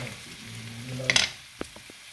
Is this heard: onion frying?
yes